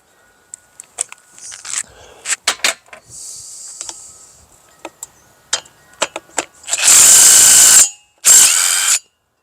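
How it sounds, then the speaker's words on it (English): A 3/8-inch drive air impact gun works on a 1960s Honda motor, firing two loud sustained rattling bursts near the end after a run of scattered clicks and clanks from wrenches and sockets. "Now this is the 3/8 drive gun."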